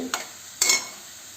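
Onions and green chillies sautéing in a pan for a tomato egg fry, with two short bursts of stirring and sizzle over a faint steady background, no talk.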